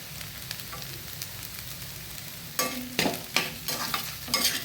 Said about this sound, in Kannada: ಈಗ ಸ್ವಲ್ಪ ತೆಂಗಿನ ತುರಿಯನ್ನು ಸಹ ಹಾಕೊಳ್ಳೋಣ ಅದಕ್ಕೆ.